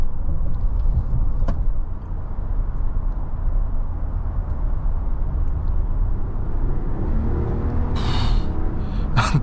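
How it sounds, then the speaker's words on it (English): A 2026 Jeep Grand Wagoneer with a twin turbo inline 6 pulls out of a corner, a heavy continuous low engine rumble and road roar heard from the cabin, with a short click partway through. "The power out of a corner is monstrous with this twin turbo inline 6."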